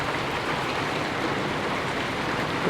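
Rain falls steadily during a bike ride in Bagac, Bataan, a dense, even hiss of drops heard close with no pauses.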